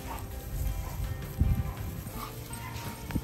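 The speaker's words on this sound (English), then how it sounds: "She did great meeting a new dog." A playful female dog makes a few short yips and soft barks while meeting a new dog, the loudest burst coming midway and another brief one near the end, all close by over ambient room noise.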